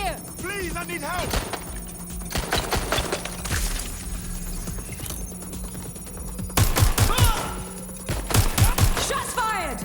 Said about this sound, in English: Careful! Gunfire over here!